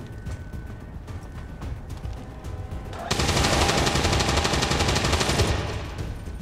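Rapid turret gunfire from the video game XCOM 2 erupts about halfway through, a dense, loud burst of sustained automatic shots over a busy game backdrop, fading slightly near the end.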